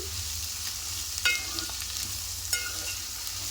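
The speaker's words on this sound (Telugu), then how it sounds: "ఇప్పుడు వీటిని మంచిగా బ్రౌన్ కలర్ వచ్చే వరకు వేయించుకుందాం" Onions frying in oil until brown for a spicy bondi curry, a steady close sizzle with a couple of sharp clinks from stirring, no talking.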